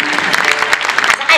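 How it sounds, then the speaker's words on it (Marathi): An audience claps during a Marathi kirtan, a dense, steady patter of many hands that runs throughout with a voice speaking over it. "टाळ्या वाजू वाटल्या तर वाजवीत जा"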